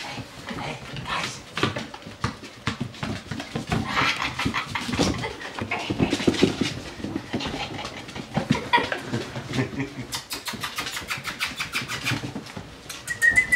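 Female Rottweiler puppies playing with a ball give off a near, continuous run of high squeaky yips, whimpers and squeals with scuffling underneath, no talking.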